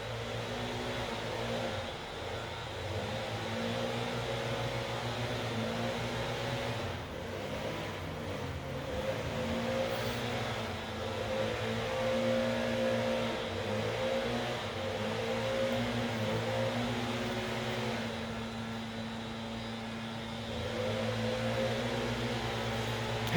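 Leaf blowers running outside on a Saturday, a faint, continuous mechanical drone with a steady hum that swells slightly and holds for over twenty seconds, with no voices over it.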